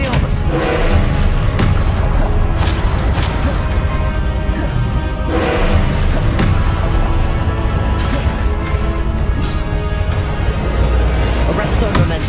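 Confringo fire-blast spells explode in Hogwarts Legacy combat, a series of loud booming impacts and crashes spaced a few seconds apart amid dense game music and effects, with voices calling out during the fight.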